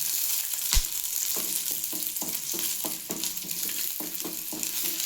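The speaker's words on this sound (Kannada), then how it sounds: "ಆಮೇಲೆ ಚೆನ್ನಾಗಿ ಫ್ರೈ ಆಗುತ್ತೆ" Garlic and ginger frying in a pan for North Karnataka chana dal curry, a dense continuous sizzle with a sharp clatter near the start and a series of regular stirring scrapes.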